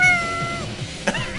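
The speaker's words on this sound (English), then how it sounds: "Is that my cat?" A pet cat meows several times in short, drawn-out calls, close and clear over faint room noise; nobody talks.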